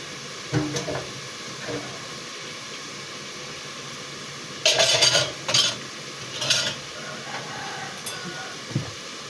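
Carrot spaghetti being stirred in a pan, with short bursts of metal utensil scraping and clinking against the pan over a steady background hiss, heard close.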